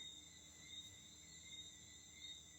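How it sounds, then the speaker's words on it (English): Crickets in St. Lucia keep up a continuous, steady high-pitched trilling drone with no breaks, heard faintly and alone without any voices. "I'm in St. Lucia and the crickets literally are that loud"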